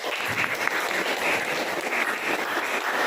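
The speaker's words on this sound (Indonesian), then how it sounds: "Yuk, sudah kita beri aplaus dulu untuk kelompok 1." A classroom group claps for a presenting team in a teacher training session, steady dense applause from many hands filling the room for a few seconds.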